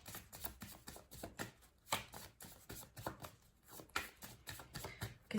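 A deck of tarot cards being cut and handled, giving a rapid run of soft papery slaps and riffles, fairly close and quiet, with no voices.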